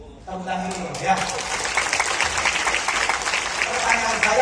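A seminar audience breaks into applause after a brief spoken lead-in, the clapping swelling quickly and continuing thick and sustained to the end.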